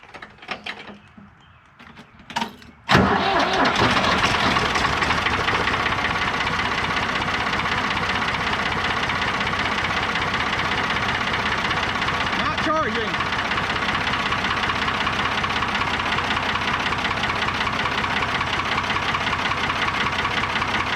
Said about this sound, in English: So let me get her started up.